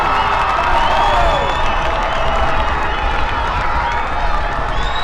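Fans cheer at a Pine View High versus Ridgeline High school football game, a steady loud crowd roar with whistles and shouts running the whole time alongside a commentator's voice.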